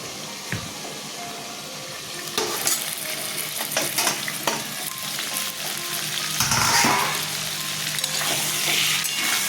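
Pointed gourd (potol) frying in oil in a pan gives a steady, moderately loud sizzle, broken by scraping stirs and clatter as the pieces are moved about.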